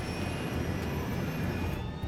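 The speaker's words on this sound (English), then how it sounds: "Flight 90 takes 45 seconds to get airborne, 15 seconds longer than usual" A jet airliner on its slow takeoff roll, Flight 90, gives a steady, loud engine roar with a high whine running throughout.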